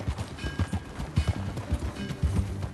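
Horse hooves pound in a quick galloping rhythm in the video game Red Dead Redemption 2, close and continuous, with a faint rumble of movement beneath and no speech.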